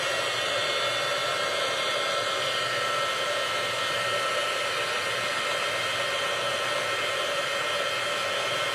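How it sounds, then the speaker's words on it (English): A small heat tool blows hot air to dry stamped ink on a handmade Valentine's Day shaker card, making a steady, loud, close whooshing hiss that lasts the whole time, with no talking. "I'm going to take my little heat tool real quick. It's going to get loud for a second."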